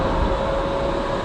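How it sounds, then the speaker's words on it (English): A bright new tram passes along a street in Zagreb, Croatia, a steady close rolling rumble with a faint sustained whine, heard alone without talk. "A lovely tram, so bright and new."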